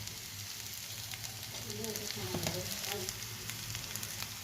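Turmeric and red chilli frying in a pan for paneer bhurji, a steady close sizzle with brief stirring scrapes swelling slightly midway, over a low hum.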